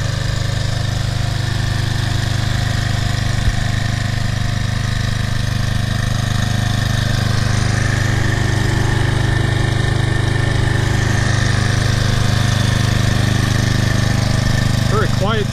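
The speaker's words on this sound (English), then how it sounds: "Very quiet, smooth engine on here." A Husqvarna HU775BBC lawn mower's 7.75 Briggs & Stratton engine idles steadily and smoothly, a low constant hum with a light rattle that stays even throughout, fairly close.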